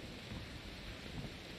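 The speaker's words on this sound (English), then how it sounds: "Okay, so it is raining blood." Steady rain pours in the horror video game Outlast 2, a dense continuous hiss with low rumbling underneath, loud and even throughout with no talking.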